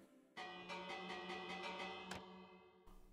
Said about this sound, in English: Dream, Minister Dream, do you mind if I slap this bell?